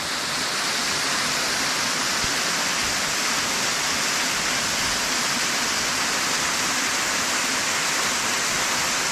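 A waterfall roars in a steady, dense rush of falling water, close and unbroken throughout with no voices.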